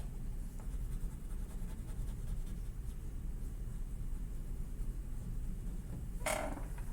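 A pen or crayon scratches on paper while a kindergarten teacher draws a house picture. The soft, continuous rasp runs steadily and faintly under quiet room noise, with no talking.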